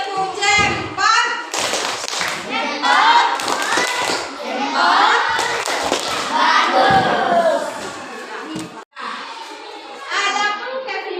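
Children in an Indonesian classroom clap a thumb-clap pattern together, rhythmic taps and claps mixed with lively kids' chatter and a teacher's voice.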